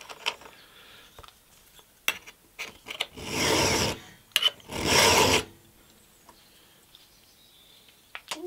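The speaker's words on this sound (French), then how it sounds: "faut limer la profondeur des guides. En mettant juste son truc entre les deux lames." Hand file sharpening the depth gauges on a chainsaw chain, heard as two distinct rasping strokes of about a second each, with light clicks and handling noises between them.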